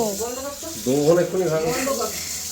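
Water runs steadily from a kitchen tap as a hissing stream, close by, while a person talks over it throughout.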